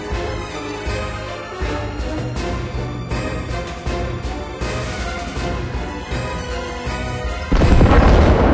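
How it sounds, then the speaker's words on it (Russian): In a naval video game, an enemy ship blows up with a run of loud booming blasts and crashes, ending in a heavier, denser roar of explosion near the end. "Вражеский корабль уничтожен!"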